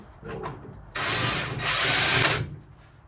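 An old impact gun forces a used lug nut onto a car wheel stud in two loud, close bursts of rattling hammering, a short one then a longer one, after faint background sounds.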